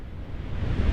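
Blizzard weather in a UE5 Royal Navy naval game: a deep, roaring wind rush that swells louder toward the end, dominated by low rumble with no voices.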